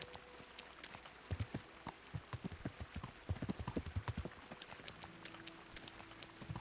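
Horse hooves clip-clop at a quick, uneven trot in the medieval game Kingdom Come: Deliverance, each strike crisp and close over a soft ambient bed, with no talk.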